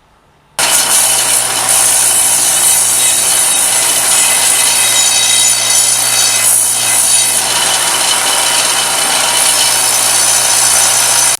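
A belt sander grinds steadily on the metal blade of a Sting sword replica, a loud, continuous abrasive rasp starting abruptly and holding for about eleven seconds with no pauses.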